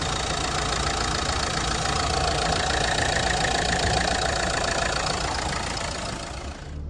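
A used crossover's car engine idles during an inspection at a car market in Lutsk. A close, loud, even engine rumble runs steadily with no voices, then tapers off slightly at the very end.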